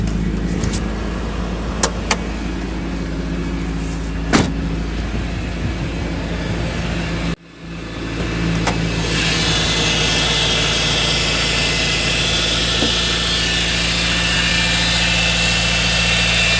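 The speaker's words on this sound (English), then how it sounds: "Cranks up, no problem. You can hear the idle smooth for a first crank up." A 1986 Toyota Corolla SR5 AE86 engine cranks over, catches, then settles into a steady, smooth idle with no choke. The brief starter burst comes first, followed by a continuous close, even idle without talk.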